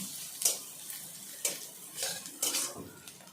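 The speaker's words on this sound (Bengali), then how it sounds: "পেঁয়াজটা এখন ভালো করে ভেজে নিচ্ছি।" Chopped onions with cardamom, cloves and cinnamon fry in a pan, a soft steady sizzle punctuated by several sharp clinks and scrapes of a spoon stirring against the metal.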